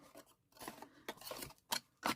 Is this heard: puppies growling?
no